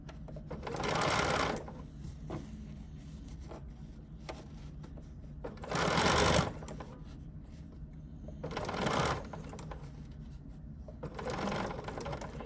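A BERNINA sewing machine fitted with edgestitch foot #10 stitches down a fabric facing in four short runs, each a quick mechanical whir separated by pauses of near silence.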